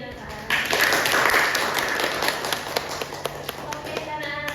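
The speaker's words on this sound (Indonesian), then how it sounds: "Tepuk tangan dulu untuk Cynthia dan Farah." Students clap for two classmates in a classroom, a dense patter of many hands starting abruptly and continuing steadily at moderate loudness, with a few sharper individual claps standing out.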